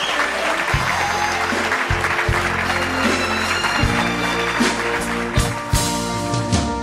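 A concert audience claps warmly for a singer, a sustained wash of applause with band tones and stage music running underneath.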